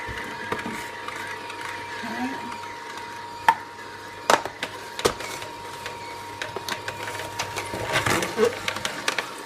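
A slow auger juicer with a large, thick auger crushes apple pieces, producing a low steady motor hum broken by irregular crunching and cracking snaps that grow busier toward the end.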